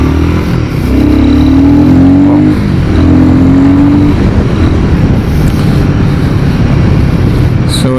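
Royal Enfield Guerrilla 450 motorcycle (2025) setting off on a busy road, engine rising in pitch twice as it pulls away, then a loud, steady close rumble of riding.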